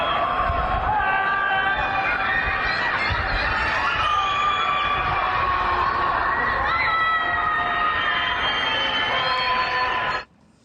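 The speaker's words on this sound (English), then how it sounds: "What you're hearing in this video are the screams of the people trapped inside." Many voices of people trapped in apartment blocks screaming and shrieking at once from a distance during a lockdown, a dense, continuous wall of cries echoing, ending with a sudden cutoff.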